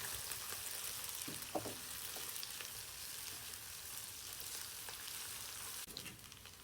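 Onions frying in oil with cinnamon and bay leaves for a Mughlai-style pulao, a steady close sizzle with a few faint stirring clinks.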